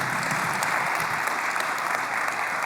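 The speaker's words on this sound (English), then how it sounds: "Ladies and gentlemen, please, let's give Veronica another round of applause." Audience applause at a business summit fills the whole stretch, a steady, dense wash of many hands clapping at moderate volume with no talking over it.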